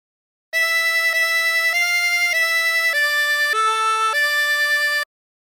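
A harmonica plays a short phrase of the folk melody Aura Lee: seven connected notes of even length in a steady legato line, close and clear with no voices.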